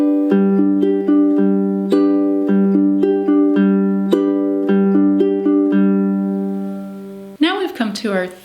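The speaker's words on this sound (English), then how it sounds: "Bringing this pattern up to the tempo of this song will sound like this." Ukulele fingerpicked at full song tempo in a steady four-beat pattern of clear plucked notes; close and alone, with a short burst of talk at the very end.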